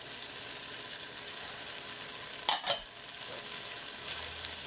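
Celery and onions saute gently in melted soy margarine over medium heat, a soft, faint steady sizzle with one brief clatter of something stirring or dropping in midway.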